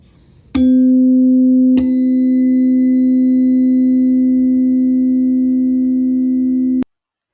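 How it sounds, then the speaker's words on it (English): Two tuning forks of the same frequency struck one after the other, each with a sharp metallic strike, merging into one loud, steady pure tone that rings evenly for several seconds before cutting off abruptly. "what you'll hear is me hitting two tuning forks that currently have the same frequency"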